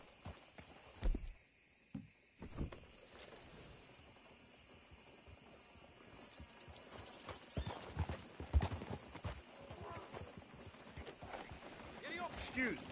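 Fox Trotter horse hooves walking in the Western video game Red Dead Redemption 2, irregular clip-clop steps amid ambient game sounds and mechanical clicks, with bursts of louder activity and a character's voice in places.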